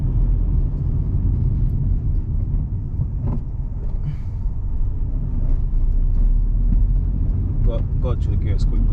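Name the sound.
truck engine revving and downshifting through gears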